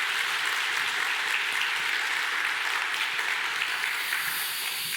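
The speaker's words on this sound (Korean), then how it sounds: "우리 한번 힘차게 박수 한번 하도록" Church congregation applauding during a Sunday worship service at Gyulhyeon Church, a dense, steady wash of many hands clapping that fills the whole stretch at even loudness.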